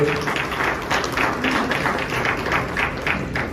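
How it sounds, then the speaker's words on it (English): Dense, continuous applause from a crowd at a community appreciation dinner, many hands clapping at once in a steady wash that holds for a few seconds. "Please give a big round of applause for their support."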